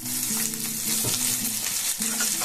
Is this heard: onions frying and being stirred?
yes